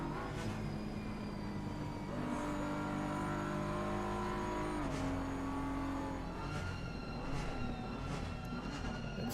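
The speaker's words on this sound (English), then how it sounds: "This Porsche, I just love listening to those Porsches." A Porsche race car engine in a racing video game at Suzuka drones steadily, with sustained tonal harmonics that shift as it accelerates and changes gear, at a constant moderate level with no talk.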